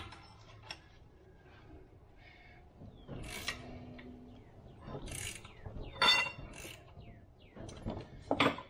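An Eaton self-adjusting truck clutch is being reset by hand outside the truck, and its mechanism gives off faint ratcheting clicks. The clicks come in short, irregular bursts at close range with quiet gaps between them.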